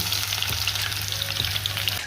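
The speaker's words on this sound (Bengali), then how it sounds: "এখন আমি বেরেস্তার জন্য পেঁয়াজটা লাল লাল করে ভেজে নেব।" Sliced onions fry hard in hot oil as birista for chicken biryani, a loud, dense sizzle up close with a few stirring scrapes and no voices.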